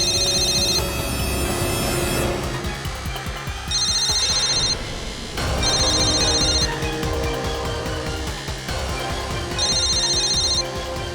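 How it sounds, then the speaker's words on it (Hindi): Phone ringing inside a room, an electronic ringtone repeating in short bursts about every two seconds over a steady hum and dramatic background music, with no talking. "तो वो फोन इसी कमरे में बजेगा।"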